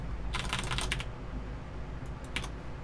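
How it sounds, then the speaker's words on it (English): Rapid computer keyboard keys hammered during a StarCraft Zerg game, a dense flurry of clattering presses followed by a pause and a couple of shorter bursts, close and fairly quiet. "when you heard that keyboard right there, that was me, just kind of had a habit hitting the buttons a lot"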